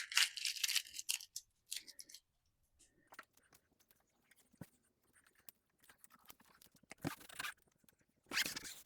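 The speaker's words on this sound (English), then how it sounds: "Use my masking tape." Masking tape is pulled off the roll in short ripping bursts while a solar panel is fitted to a Ford Bronco hood. Several quick tearing strips come through close and crisp, separated by quiet pauses and faint handling noises.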